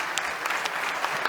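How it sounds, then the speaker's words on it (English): Audience applauding panelists at a conference on a main stage, a dense steady patter of many hands clapping throughout, moderately loud and continuous with no talk over it. "panelists, please give a round of applause"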